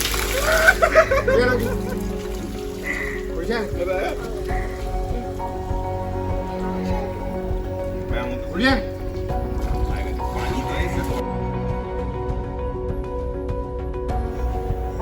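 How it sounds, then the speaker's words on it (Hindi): An elephant sprays a shower of water during an elephant ride in Kerala, with a splashing burst at the start followed by steady pattering like rain. Voices are heard nearby. "Shower from this elephant."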